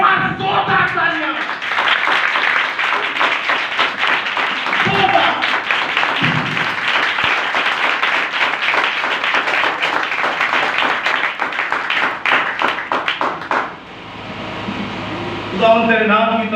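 A church congregation breaks into loud, sustained applause during a worship service, with dense clapping lasting several seconds. A voice speaks briefly before and after the clapping.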